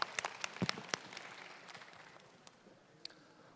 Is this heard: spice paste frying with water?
no